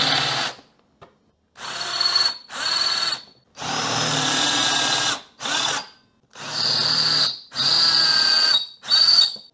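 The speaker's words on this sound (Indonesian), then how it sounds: "jadi saya gunakan mata bor yang lebih besar untuk bikin countersinknya" A power drill fitted with an oversized bit bores a countersink into wood in several short, close bursts separated by brief silences, with no voices.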